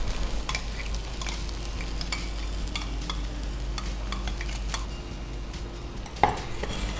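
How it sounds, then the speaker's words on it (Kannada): Masala with garlic and coconut being stirred and fried in a pan for brinjal palya, repeated spatula scrapes and taps over a steady sizzle, ending with one sharper knock against the pan. "ಮಸಾಲೆ ಹಾಕೊಂಡು ನೀಟಾಗಿ ಮಿಕ್ಸ್ ಮಾಡ್ಕೊಳ್ಳೋಣ"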